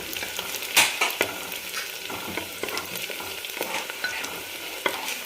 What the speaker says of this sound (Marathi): आपल्याला कलर बदलीपर्यंत कांदा तेलामध्ये परतून घ्यायचा आहे